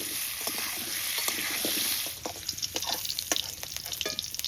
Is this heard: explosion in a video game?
no